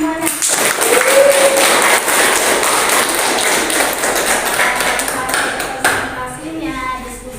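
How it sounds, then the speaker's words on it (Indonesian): A class claps steadily for several seconds after a presentation, a dense patter of applause that fades near the end. "kita beri tepuk tangan semuanya"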